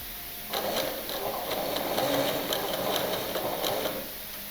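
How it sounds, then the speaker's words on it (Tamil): A sewing machine stitches a three-dart cut blouse, its motor starting up and running in a fast, even whir for a few seconds before stopping, with no voices over it. "நான் வந்து இந்த ப்ரெஷர் ஃபுட் அளவு வச்சு தையல் போட்டுக்கிட்டுருக்கேன்"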